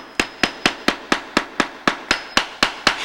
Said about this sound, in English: Use the tapping block and a hammer to lightly tap the ends together.